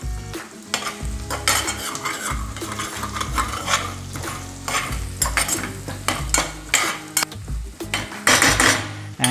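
A utensil scrapes and clinks in a pan as fried garlic, onions and egg are stirred together, close and busy, with steady sizzling underneath and no talking.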